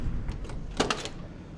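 The door of a pastel blue 1970 Ford Mustang Boss 302 opens close to the microphone, a quick mechanical click and clunk of the latch over a low background hum.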